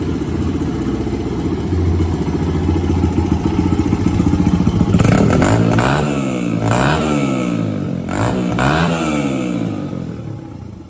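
A 2001 Honda XR100 motorcycle engine, kick-started with the choke off, settles into a close, rattly single-cylinder idle and then takes several sharp throttle blips that rise and fall in pitch before easing back, with no voices.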